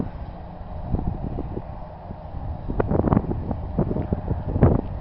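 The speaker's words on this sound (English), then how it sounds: "The wind's got a little bit more speed, so it's carrying it a lot faster." Wind blowing outdoors in West Texas, a steady rushing buffet against the microphone that swells louder toward the end, with faint gusty rumble throughout.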